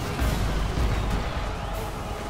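Artillery fire pounds troops in a video game battle, a continuous low rumble of distant booms and blasts layered into a heavy, dense roar with no clear gaps.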